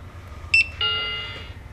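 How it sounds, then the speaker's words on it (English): Order-scanning computer sounding an error alert after a wrong item is scanned, a short high bleep followed by a sustained electronic tone of about half a second, clear and close over low background hum. "the computer sounds an alarm"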